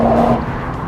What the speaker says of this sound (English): going flat on the throttle as soon as possible and feeling that sensation and torque as the turbos spool up